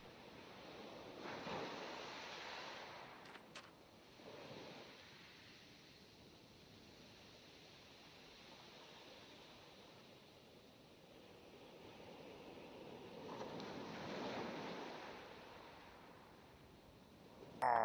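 Ocean waves wash around a lone island far out at sea in Minecraft, a soft, steady surf hiss that swells twice into louder breaking surges, with no voices.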